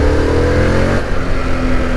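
Harley-Davidson Pan America motorcycle with a stock exhaust, engine revving up loud and close, a rising then steady mechanical roar lasting a couple of seconds with no one talking.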